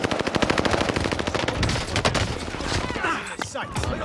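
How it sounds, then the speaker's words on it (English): Rapid bursts of OTS 9 submachine gun fire crackle in Call of Duty on Rebirth Island, dense overlapping shots from several weapons filling the whole moment as an intense firefight. "Taking heavy fire."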